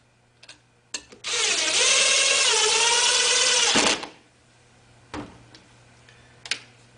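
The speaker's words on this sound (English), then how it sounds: "drive two number 10 sheet metal screws into the indents to secure the pipe" A power drill drives a number 10 sheet metal screw into a rooftop pipe support strap with one sustained whirring run of about three seconds, framed by a few sharp clicks and taps before and after.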